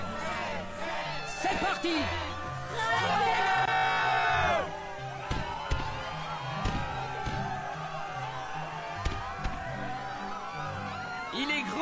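Arena crowd in Kingdom Hearts II cheering and whooping, loudest early on then settling into a steady background roar, with a voice speaking over it.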